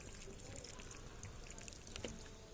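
Water pours and trickles steadily onto dry plant propagations, a soft continuous splashing with a few faint drips throughout.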